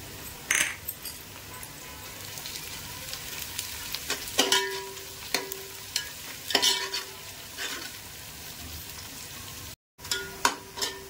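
Onions frying in a pan with cumin and curry leaves for a prawn pulao sizzle steadily and close, broken by repeated clinks and scrapes of a spoon stirring against the pan.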